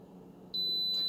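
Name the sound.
Instant Pot Viva beeping when done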